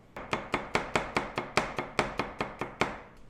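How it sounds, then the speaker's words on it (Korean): Knife chopping dumpling filling ingredients such as scallion on a cutting board, about a dozen sharp, evenly spaced thuds, close and clear with no talk. "적당히 다지시면 돼요"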